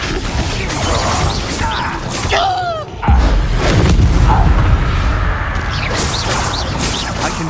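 In the video game Hogwarts Legacy the Confringo explosion spell fires, with whooshing magic effects followed by a loud booming blast and a rumbling crash; a voice speaks over the action.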